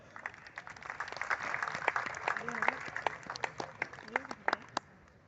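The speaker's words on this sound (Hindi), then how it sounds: "आप सब की तालियों का साथ चाहता हूँ।" Scattered applause at a Hindi-Urdu mushaira poetry gathering, the individual claps sharp and uneven rather than a dense roar, with a voice speaking briefly over them partway through.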